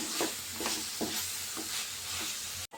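Turmeric, chili powder and coriander powder being stirred into a frying mushroom pepper gravy, a spoon scraping the pan in regular strokes over a constant low sizzle.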